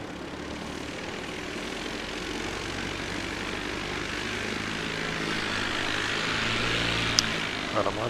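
Propeller airplane running an engine test at Christchurch Airport, New Zealand, a steady, moderately distant drone with low engine harmonics that swells slightly toward the end.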